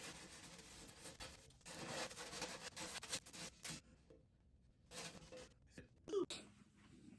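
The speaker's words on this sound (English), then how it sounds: "I went and found some 220 grit sandpaper" Coarse 220-grit sandpaper rubbed back and forth over a cracked crash cymbal, a soft irregular scratchy scrubbing in short strokes with pauses, quiet and close.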